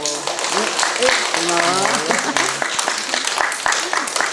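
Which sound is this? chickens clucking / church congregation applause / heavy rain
church congregation applause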